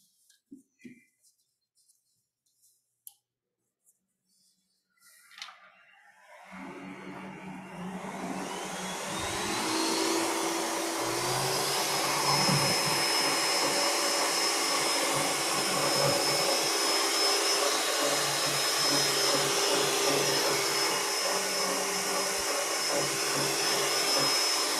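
A blender purees margarita mix with fresh lime juice, starting after a few clicks and knocks and then running as a loud, steady whirring drone that continues to the end.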